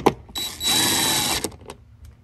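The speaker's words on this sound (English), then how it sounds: "Now we're gonna take our T30 Torx again and put this screw back in." A power driver with a T30 Torx bit runs a screw back into the electronic liftgate latch area of a 2015-era Yukon, Tahoe, Suburban or Escalade, giving one close whirring burst of about a second framed by small clicks and handling noises.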